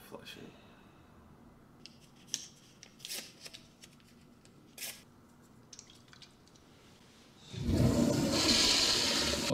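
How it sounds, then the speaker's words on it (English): A toilet flushing in a Better Call Saul scene, a loud rushing surge of water that swells up in the last two seconds after quieter rustling and scattered small sounds. "He's gonna flush it."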